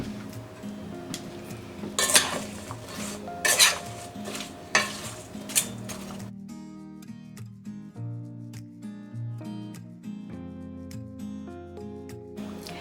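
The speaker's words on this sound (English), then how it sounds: "we're going to stir this up to make sure everything is coated and nice and evenly" Seasoned vegetables tossed and stirred in a bowl, a run of rustling, clinking scrapes in the first half, then quieter, with soft background music throughout.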